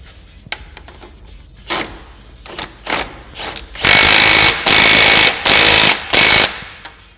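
A power tool tightens a tie rod nut on a Polaris RZR Pro R during front axle installation. After a few scattered clanks and short bursts, it runs in four loud, sustained rattling bursts of near-equal length.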